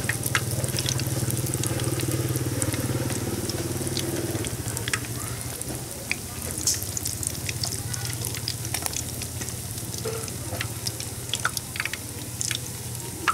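Small fish frying in hot oil until crispy, a loud, continuous sizzle and crackle up close with scattered pops and spatters throughout, no voices over it.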